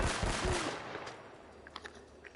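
Anti-tank rifle shots in the game Uncharted: a few heavy, booming blasts crack out close together at the start, then fade into a quieter tail with small scattered clicks.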